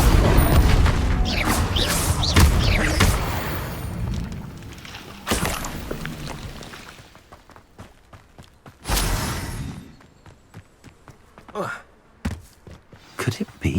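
Spell blasts, including the Confringo curse, erupt in Hogwarts Legacy amid dense combat noise: several loud whooshing bursts and booms, then sharper isolated impacts, with a voice calling out incantations throughout.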